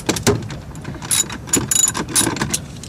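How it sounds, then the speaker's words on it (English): A ratchet wrench clicks in quick bursts while loosening 8mm bolts on a Mazdaspeed short-throw shifter during an install, with several close, crisp runs of ratcheting separated by brief pauses. "I'm going to go ahead and pop off these 8mm bolts right here."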